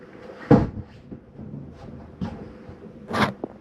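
An RV sofa in a 2024 Keystone Bullet 260RBS folds down into a bed: a few sharp clunks and knocks with softer shuffling in between, close and distinct, and no speech.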